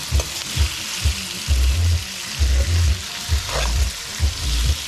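Ground provisions with tomato frying in a pan, a steady close sizzle with soft bursts of spatula stirring and scraping recurring every second or so, no voices.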